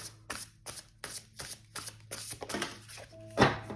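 Animal Spirit Tarot oracle cards being shuffled by hand, a run of crisp riffling bursts at a steady rhythm, close and fairly quiet, ending in a louder flurry.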